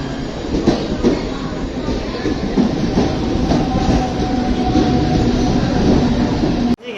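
A train runs at Vikhroli station with a loud, continuous rumble and rhythmic clickety-clack of wheels on rails, ending in an abrupt cut.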